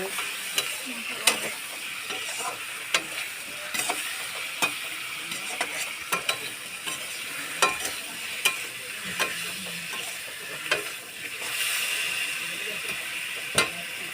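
Salted eggplant fries in a pan with a continuous hiss and frequent clicking, scraping strokes of a utensil stirring it, close and fairly even throughout.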